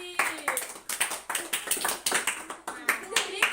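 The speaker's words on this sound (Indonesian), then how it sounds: "silakan beri tepuk tangan untuk Mas Yogi" A classroom of schoolchildren claps for a classmate after a science lesson on heat transfer: uneven, fairly close clapping that keeps going steadily throughout, with voices mixed in.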